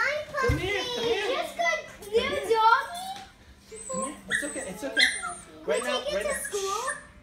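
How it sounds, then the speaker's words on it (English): A puppy yips and whimpers in short high cries amid excited children's voices, close and lively. "A puppy! That's so cute!"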